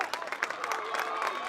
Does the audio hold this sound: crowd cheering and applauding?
yes